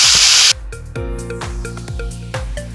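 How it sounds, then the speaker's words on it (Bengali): Chopped cabbage dropped into hot oil with black cumin, a loud burst of spray-like sizzle, then clattering stirring and a sustained hiss close by. "ওই তেল কালো জিরে দিয়ে দিলাম এবার আমরা দিয়ে দিলাম আগে থেকে কেটে রাখা বাঁধাকপিগুলো"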